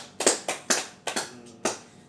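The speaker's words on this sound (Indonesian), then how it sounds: "Kita boleh tepuk tangan." Five separate hand claps in a slow, uneven rhythm, close and crisp with short decays, no voices, as in a small individual counselling session.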